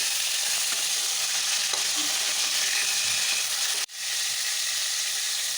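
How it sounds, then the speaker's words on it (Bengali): Prawns fry in oil for a prawn malai curry, giving a loud, steady, dense sizzle that cuts out sharply for a moment near the end before resuming. "মাছগুলো আমার ভাজা হয়ে গেছে"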